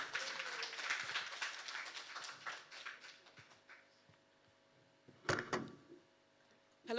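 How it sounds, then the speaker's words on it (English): Scattered applause from a finance leadership forum audience, fairly faint and thinning out after a few seconds, followed by a couple of sharp knocks near the end. "a round of applause"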